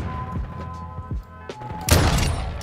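A single loud, sharp AWP sniper rifle shot with a booming tail rings out after a few quieter thumps, in a Call of Duty match.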